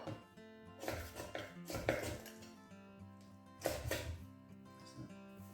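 Knife cutting through raw chicken on a chopping board while jointing the bird for piri piri chicken, a few soft irregular chopping and slicing knocks close by, with no talk.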